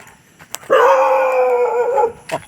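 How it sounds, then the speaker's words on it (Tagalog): A dog gives one long, drawn-out howling bark nearby, with a few faint clicks before and after. "Umahol po pati aso."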